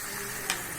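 Ground masala paste for an egg gravy hits a hot pan and sizzles, a steady hissing fry with a brief sharp spatter near the middle, heard close and without talk.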